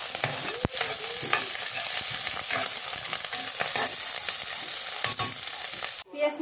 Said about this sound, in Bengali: পেঁয়াজ কুচি আর কাঁচা মরিচ দিয়ে দিলাম।